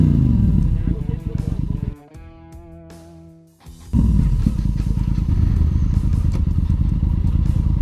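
A Yamaha Super Ténéré motorcycle on an off-road trail during the Paraúna Challenge runs loudly and close by, drops to a low idle for about two seconds, then roars back up and keeps revving.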